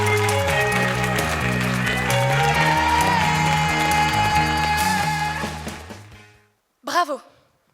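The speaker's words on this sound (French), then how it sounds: "sous vos applaudissements s'il vous plaît" A crowd at a slam poetry tournament applauds and cheers loudly for a poet over music, the sustained clapping fading out before a short burst of voice near the end.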